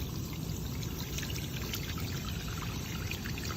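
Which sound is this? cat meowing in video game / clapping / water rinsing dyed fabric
water rinsing dyed fabric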